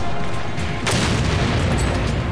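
A grenade explodes in Resident Evil 5 with a loud, sharp boom. A long rumbling roar follows and fills the rest of the moment.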